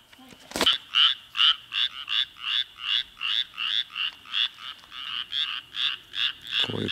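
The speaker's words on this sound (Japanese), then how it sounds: "こういうカエルの声最高なんですよね。" Frogs croak on a road at night in a steady run of rapid, evenly spaced pulsing calls, loud and close, repeating about twice a second with a brief knock near the start.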